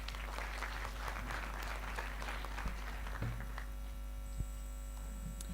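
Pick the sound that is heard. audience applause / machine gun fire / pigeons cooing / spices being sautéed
audience applause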